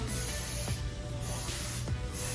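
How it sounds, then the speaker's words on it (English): A continuous hissing aerosol spray of butter-flavoured cooking oil onto a pan, close by, with short pauses and soft clicks as the can is moved around, under a faint low hum. "you spray it with your cooking oil here. Spray all the way around and around."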